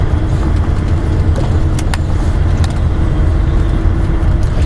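A lorry engine rumbles steadily at low revs while the truck is driven slowly and turned on a training course, a close, continuous drone with faint rattles and no talk.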